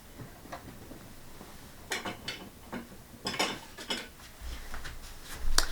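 A spoon stirs hot water in a pot to dissolve salt for dyeing fabric, giving irregular metallic clinks and scrapes against the container, close and fairly crisp, with no talking.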